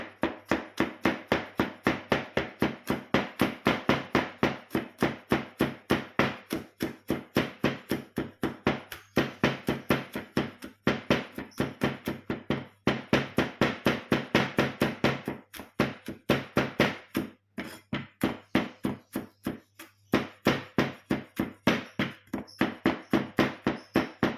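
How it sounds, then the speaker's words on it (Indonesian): A cleaver repeatedly smashes garlic cloves on a board while cooking butter fried chicken, a steady run of close, sharp thumping chops continuing for over twenty seconds with only brief pauses. "menggunakan golok, lebih enak ya untuk menggeprek bawang putih seperti ini"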